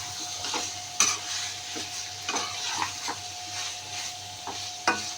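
A spoon stirs chicken curry ingredients around a pan, giving repeated scraping clinks and knocks over a low, steady sizzle, close and fairly quiet.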